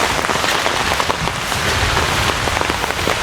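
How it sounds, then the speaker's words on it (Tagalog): Heavy rain pours steadily onto a planted garden plot, a dense, continuous hiss with scattered close drops pattering loudly throughout, no voices. "So sobrang lakas ng ulan."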